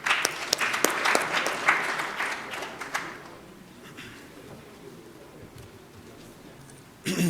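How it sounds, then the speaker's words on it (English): Audience applause at an accountancy symposium workshop, a burst of crisp nearby claps that fades within a few seconds to a quiet room, followed by a short loud noise at the very end. "So a big round of applause for Adnan Mufti."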